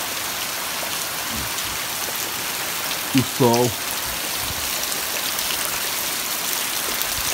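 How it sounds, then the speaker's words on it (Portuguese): Steady rain falling as a constant hiss, with a man's brief speech and a short animal-like call partway through. "Mas essa chuvinha é passageira, pô."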